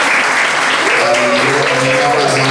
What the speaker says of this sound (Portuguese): Cadê a salva de palmas para a Nilva?